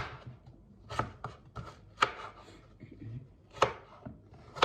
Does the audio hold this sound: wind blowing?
no